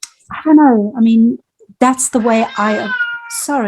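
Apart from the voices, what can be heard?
pet cat meowing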